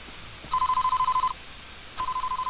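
A telephone rings in the Famicom Detective Club II video game, a steady electronic ring tone heard in two separate bursts with a short pause between them, loud and clear with no talking over it.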